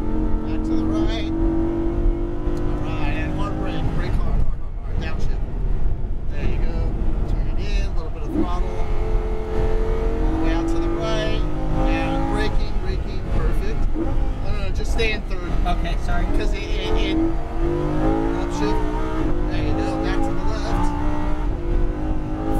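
A Lamborghini Huracan's engine on a race track roars loud and constant from inside the car, climbing in pitch through gears with shifts audible, while an instructor talks over it.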